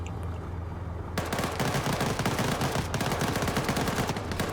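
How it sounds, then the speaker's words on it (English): Rapid automatic gunfire in the military shooter Arma 3 during an esports match, a quiet lull giving way to a dense, continuous volley of overlapping shots. "Goatland getting some shots in the rear of some independent forces."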